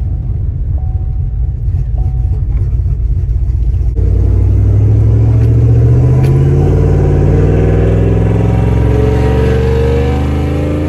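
A GMC Sierra with a 5.3 V8, stage 2 cam, x-pipe and long-tube headers idles with a choppy, lumpy rumble, then is revved hard, rising into a loud, sustained roar that holds close and steady to the end.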